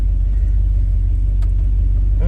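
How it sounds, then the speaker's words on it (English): A 1972 Chevrolet K10 Suburban truck idles loudly and steadily, a deep continuous engine rumble close up with no break or change in pitch. "So the truck's running, as you guys can hear"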